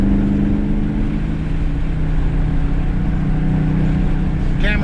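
Sustained loud engine roar with a steady low drone from a 2019 Dodge Charger SRT 392 Scat Pack with a 485-horsepower engine, pulling hard and holding steady throughout, heard from inside the car.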